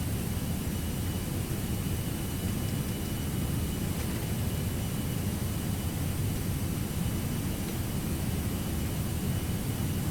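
Jet airliner engines at takeoff thrust in a flight simulator, a Toronto to Montreal short-haul departure: a steady, loud, broadband roar that holds constant without a break.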